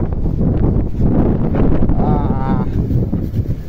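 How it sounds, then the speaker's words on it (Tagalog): Strong wind just after a typhoon roars and buffets the microphone continuously, with a faint tonal whine rising briefly in the middle. "Ang lakas ng hangin, no?"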